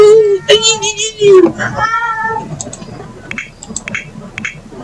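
A cat meows in The Sims 4 video game, a Bombay cat's harmonic cries rising and falling over the first two seconds, then fainter chirps and clicks follow beneath background game music.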